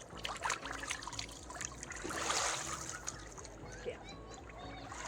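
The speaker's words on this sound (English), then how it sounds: "I'm going to rinse with water just one more time, just to make sure it's everything." Water trickling and splashing as cleaned catfish get rinsed at a campsite, a close, continuous watery rush with small splashes, heard alone without talk.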